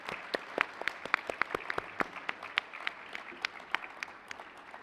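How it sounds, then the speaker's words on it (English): Scattered, distinct hand claps from a modest audience at an education event in Doha, ringing out steadily in an uneven rhythm with no talking over them. "Let's give them a big round of applause."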